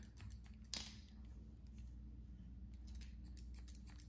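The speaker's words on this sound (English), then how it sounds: "I'm gonna point cut here." Hair scissors point cutting a pixie cut on an older woman, a series of quick, faint snips close to the ear against a quiet room hum, one crisper clip standing out early.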